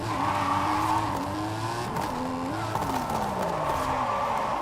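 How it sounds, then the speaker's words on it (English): A Hummer driven in a video game, its engine droning steadily with rising and falling revs and gear shifts, loud and close throughout with no talking. "I'll drive around 5 miles in the Hummer while I wait"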